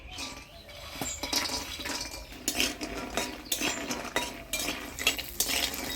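Mashkalai lentil dumplings (bori) dropped into hot oil in a pan for a bottle gourd curry, with clattering utensil and stirring sounds over a steady sizzling fry, close and busy.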